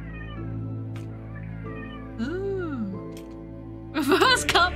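A house cat gives a single drawn-out meow that rises and falls, set against a low steady hum, with a short burst of louder scuffling noise near the end.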